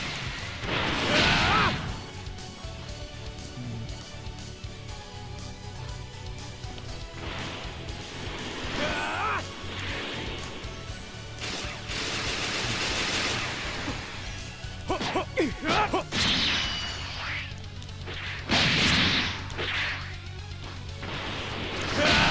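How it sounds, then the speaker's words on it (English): A missile barrage attack in Dragon Ball Xenoverse PvP combat: a loud, continuous stretch of whooshing launches and crashing impacts, with sharper smashes and bursts piling up toward the end. "Die, die, missile barrage!"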